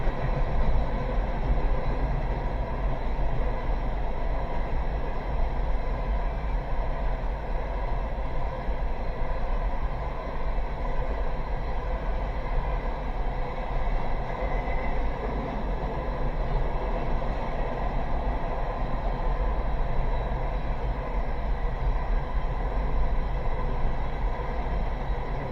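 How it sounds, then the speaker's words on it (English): A long, empty CSX coal train rumbles past continuously, a steady low roar of rolling cars that stays even throughout. "I don't know how long this train's going to be"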